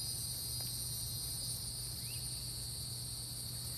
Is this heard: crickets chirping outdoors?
yes